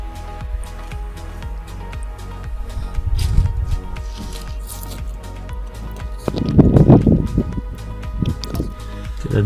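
Water poured onto the soil of a potted plant to flush out salt gives a steady wet trickling and squishy soaking, louder in two surges, close to the microphone.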